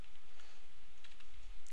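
Soft, quiet keyboard typing with scattered clicks over a low background hum, no voices.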